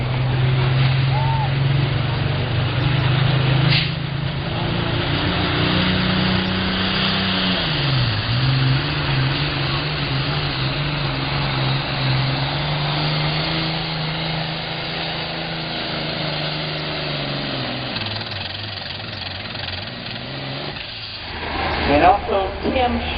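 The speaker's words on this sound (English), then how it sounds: "Another John Deere 4020 called Burning Money." A John Deere 4020 tractor at a tractor pull drones with a loud, steady low engine roar that dips in pitch briefly, while an announcer talks over it throughout.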